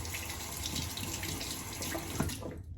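A safety razor rinsed under a running tap, with water gushing steadily into a sink for a few seconds before cutting off abruptly.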